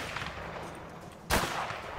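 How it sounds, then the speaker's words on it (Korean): Gunfire in the video game A Way Out: a low background rumble of combat, then one sharp, loud shot burst near the middle of the two seconds, followed by a lingering noisy tail. "저 친구는 총을 너무 못 쏜다."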